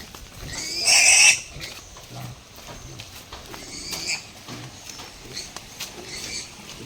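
A young piglet on a Filipino pig farm lets out one loud, shrill squeal near the start, followed by quieter shuffling and snuffling from nearby pigs.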